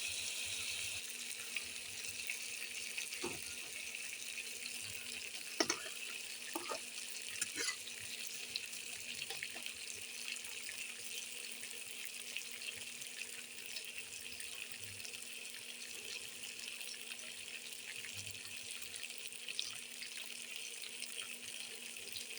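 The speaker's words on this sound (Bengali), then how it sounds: "বন্ধুরা এবার দিয়ে দেবো একটু জল" Water pours steadily into a pan of rohu fish curry that is cooking over fried spices. A faint, constant stream keeps up a hiss for about twenty seconds, with a few small clinks from the pan and no talking.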